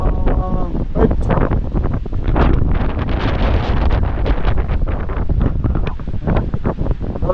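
Strong wind gusts buffet the microphone on a steep, frightening mountain trail to Kanchenjunga North Base Camp, a loud rumbling roar with blustery surges, and a person talks over it.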